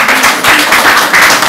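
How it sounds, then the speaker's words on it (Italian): Applause at a basketball press conference with coach Meo Sacchetti ahead of a game against Avellino: a short, steady patter of hand claps from a small group in the room, continuous and fairly loud, with no talk over it. "se gli facciamo un applauso"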